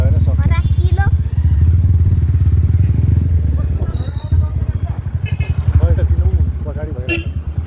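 A motorcycle riding along a road in the Chapakharka area, its engine throbbing steadily and close throughout while people talk over it.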